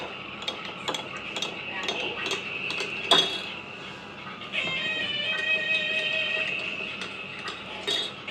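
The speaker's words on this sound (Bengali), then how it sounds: "এখন আমি নেড়ে চেড়ে নিব।" A spoon stirs tea with milk and sugar in a cup, giving repeated close metallic clinks and scrapes against the sides in short bursts, with quiet rustling in between.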